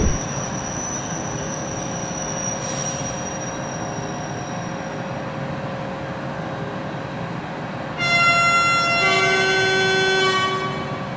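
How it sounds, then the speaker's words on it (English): An express train from Paris Gare de Lyon pulls into a station platform with a steady rumbling roll, then wheels squeal in long high tones near the end. "The train now arriving on track D is the 11:50 a.m. express from Paris Gare de Lyon, now terminating on track D."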